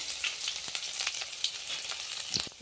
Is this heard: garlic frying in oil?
yes